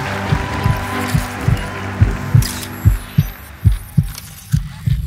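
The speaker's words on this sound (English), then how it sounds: "Do you feel your heart beating?" Steady heartbeat sound effect, low thumping double beats repeating about twice per second for several seconds, close and prominent, with faint hum and a brief high rustle partway through.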